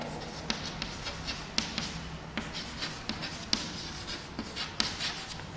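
Chalk or marker taps and scratches on a classroom board, a string of quick irregular strokes and sharp clicks at close range, faint and steady without talk.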